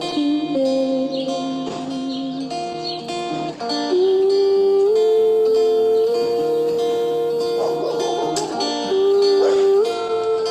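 A dog howls and yelps in long, wavering tones over a soft, sustained musical backdrop, loud and close throughout.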